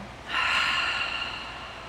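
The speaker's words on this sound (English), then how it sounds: "open your mouth, again, that cleansing breath out" A single cleansing breath pushed out through an open mouth during a fitness class, a steady airy rush lasting over a second, close and fairly loud with no talking.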